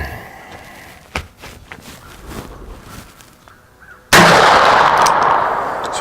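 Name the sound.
Smith & Wesson Model 629 revolver gunshots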